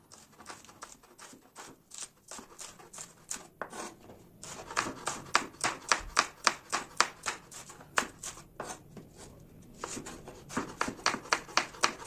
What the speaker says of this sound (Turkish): Orta büyüklükte 6 tane soğanı ay şeklinde doğramaya devam edeceğim.